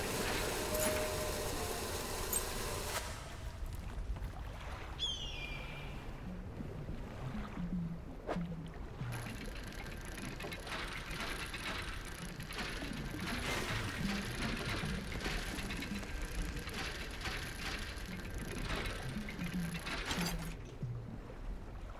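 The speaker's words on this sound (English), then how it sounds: "We'll see if we can banish these and do the dredging. And that is so loud." Dredging machinery in the fishing game Dredge, a loud continuous mechanical grinding and whirring with ratcheting gear-like clatter that runs steadily throughout, near and dominant.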